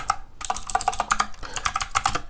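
Quick bursts of computer keyboard typing as a terminal command is entered to start a Node.js server, crisp close clicks in an uneven rhythm with no talk.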